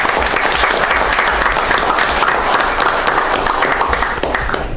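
Loud, sustained applause from an audience at an evening proclamation ceremony, dense clapping filling the room steadily without a break.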